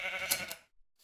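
A single sheep bleat from the Minecraft video game, short and wavering, cutting off abruptly into silence.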